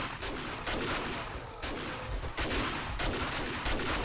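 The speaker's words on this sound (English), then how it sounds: "I can see you guys shooting from underneath" Gunfire in the 7 Days to Die video game, a series of muffled shots and thuds repeating irregularly, fairly faint and slightly distant, with no speech.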